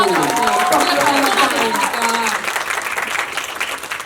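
Members of the press applaud at a Bangkok press conference for Kim Soo Hyun's 2024 Asia Tour, a steady, dense clapping that holds throughout with voices and crowd murmur mixed in.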